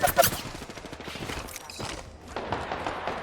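Rapid bursts of gunfire in a Korean horror-themed multiplayer shooter game, loud and dense at the start and returning in a crackling volley near the end, with excited players shouting over the shots.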